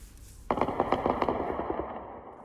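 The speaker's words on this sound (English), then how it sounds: "I heard the air defenses working." Air defense fire over Kyiv during a night Shahed drone attack: a sudden rapid burst of repeated cracking shots, fairly distant, lasting about a second and a half before trailing off into echo.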